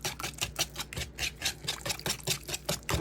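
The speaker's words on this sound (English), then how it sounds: "6 tablespoons of avocado or olive oil. And then we're going to whisk this together." Avocado or olive oil is whisked into a dressing in a bowl, making quick rhythmic splashing strokes, soft and close.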